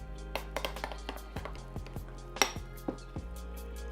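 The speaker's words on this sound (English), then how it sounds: "Just give it a mix so everything is combined well together." Cheesy keto Crunchwrap filling being mixed in a hot pan, with a handful of clinks and scrapes of a utensil against cookware, sparse and fairly close, no talking.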